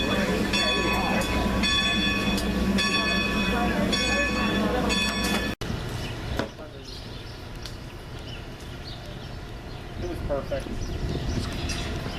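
Steady rumbling of a moving train carriage on a Strasburg train ride, with a continuous low roar, clicking and rattling of the rails, and voices faintly in the background.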